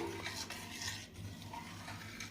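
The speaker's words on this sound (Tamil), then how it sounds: "இப்போ கொஞ்ச நேரம் இதை கைவிடாமல் கிளறணுங்க." Buttermilk batter for morkali being stirred in a pan, soft repeated scraping and swishing of a utensil against the metal, close and faint.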